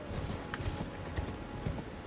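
Horse hooves in Elden Ring clip-clop at a steady trotting rhythm, muffled and mid-distance over a dense background rumble.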